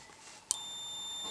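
A click followed immediately by a steady, high-pitched electronic beep from a continuity tester checking the ground on a Solex 5000 moped, holding without pausing until the end.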